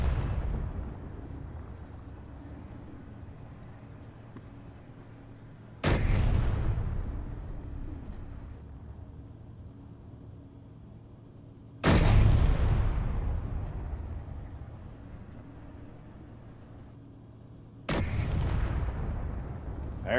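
A tank's main gun firing in a video game about a Mammoth tank, three heavy booming shots spaced about six seconds apart, each with a long rumbling decay over a low steady background hum.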